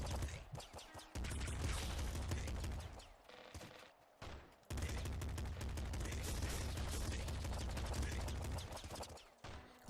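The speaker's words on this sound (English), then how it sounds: "Ooh, fucking triple machine gun." A triple machine gun in the video game Nuclear Throne fires in dense rapid bursts, a loud rattling barrage that stops briefly in the middle and then resumes for several seconds.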